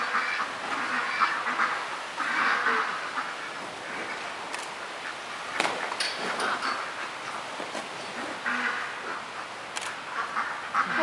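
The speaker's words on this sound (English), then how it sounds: "look at the ducks" Ducks quacking in short bursts outdoors, moderately distant, with a few sharp clicks and background noise between calls.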